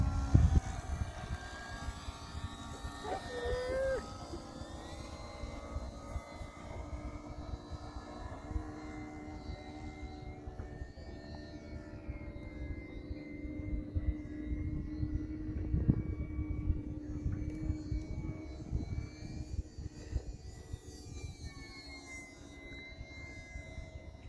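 E-flite UMX Timber RC model airplane flying, its small electric motor giving a steady buzzing whine that rises and falls with throttle changes, moderately close and continuous.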